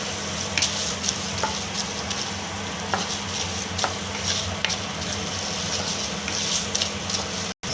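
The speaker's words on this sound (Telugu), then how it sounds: "ఇప్పుడు ధనియాలు అనేది కూడా ఆయిల్లో బాగా వేసుకోవాలి ఫ్రెండ్స్" Coriander seeds frying steadily in hot oil, a continuous close crackling sizzle with small pops and stirring scrapes, no voices.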